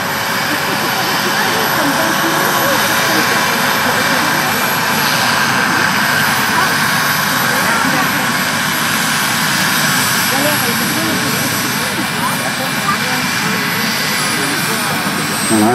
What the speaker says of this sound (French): Voilà, atterrissage du dernier hélicoptère.